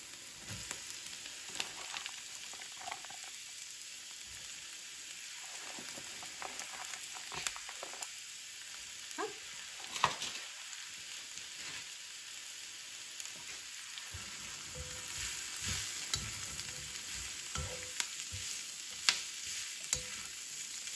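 Vegetables sizzle and brown in a pan with a low, steady frying hiss, broken by scattered scraping and stirring clicks, fairly quiet and close, with no voices.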